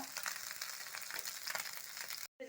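Paneer and vegetables frying in hot oil for veg samosa filling, giving a dense, continuous close sizzle that cuts off briefly near the end.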